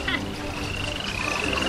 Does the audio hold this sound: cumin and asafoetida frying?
no